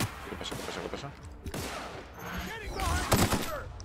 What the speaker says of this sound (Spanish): Los tiracos que mete Eli con la pistola